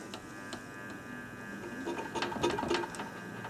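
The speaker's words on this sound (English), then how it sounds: "Starting to spin dryers up." Spin dryers wind up while a washing machine test runs nearby, making a soft mechanical whir with light ticking and rattling that builds slightly in the second half. It stays fairly quiet and close.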